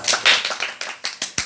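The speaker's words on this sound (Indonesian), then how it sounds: "tepuk tangan buat Dika" In a classroom, students give a short burst of clapping for a classmate, about seven distinct, slightly uneven claps from a small group, close and clear.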